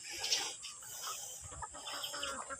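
A native-breed rooster clucks and calls nearby in short bursts, with other farm birds faintly in the background.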